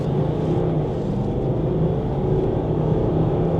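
A Range Rover launches hard with traction control off and the gearbox in sport during a drag race against a Land Cruiser, its engine giving a loud, sustained roar heard from inside the cabin.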